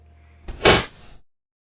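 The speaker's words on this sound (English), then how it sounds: "On the surface, number 21 sounds like another door slam." A door slamming inside a building: one sharp, loud impact followed by a short decaying rumble, heard alone over a faint hum, then silence.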